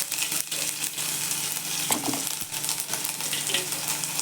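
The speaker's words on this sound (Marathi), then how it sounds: "थोडंसं हे लसूणची पेस्ट घालते आणि थोडीशी आल्याची" Garlic and ginger paste dropped into hot oil with crackling cumin and mustard seeds, a dense close sizzle with a few stirring knocks, steady and loud without talk.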